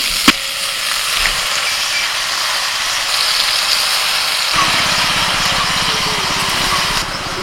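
Broken rice grits tipped into hot oil with frying potato, onion and green chili, a loud continuous sizzle with a sharp clatter at the start, then stirring; no talk.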